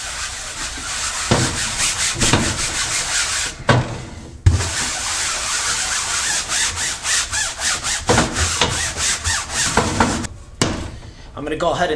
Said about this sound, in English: take some extra time to abrade this very thick, slick fabric very well